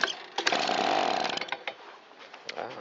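A Stihl BG55 two-stroke leaf blower with a carburetor fault catches briefly after a pull start, revving in a short burst of buzzing engine noise and then sputtering with uneven pops before dying down.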